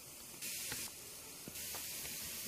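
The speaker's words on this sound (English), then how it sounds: "get a little bit of penetrating spray" Two short bursts of penetrating oil spray hiss from an aerosol can onto a Ford Focus front axle nut, separated by a brief pause, close up.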